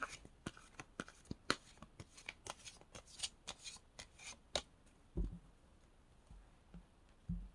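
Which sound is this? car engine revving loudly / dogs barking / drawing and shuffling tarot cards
drawing and shuffling tarot cards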